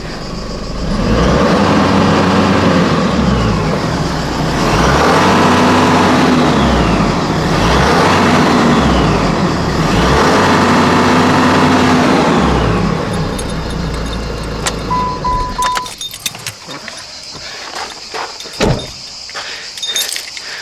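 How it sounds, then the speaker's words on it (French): A car engine with a turbo is revved in a series of repeated rises and falls, loud and close, running steadily for most of the stretch before dropping away to quieter clicks and rattles near the end. "On va mettre un petit coup de gaz, voir s'il n'y a pas un truc qui démanchonne"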